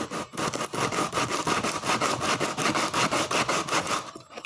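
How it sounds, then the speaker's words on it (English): A wooden violin bass bar is rubbed back and forth over coarse 40-grit sandpaper clamped flat, making a loud, steady series of quick rasping strokes close by that stop near the end. "40 grit sandpaper from a belt sander. Just put it clamped here, made it nice and tight where I could."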